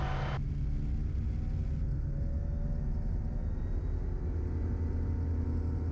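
A Pipistrel light aircraft's engine roars at takeoff on a runway, a loud steady drone with a sharp change in pitch early on, then holding at full power.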